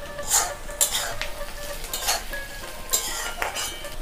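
Four chopped green chillies go into a frying pan of onions browning with sugar, scraped and stirred with a metal utensil: several sharp clinking strokes over a steady background sizzle, close and moderately loud, no talking.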